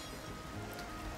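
Steady rain falling in Xenoblade Chronicles: Definitive Edition, a dense, even hiss of drops on surfaces that holds at a constant level throughout the short stretch, with no voices over it.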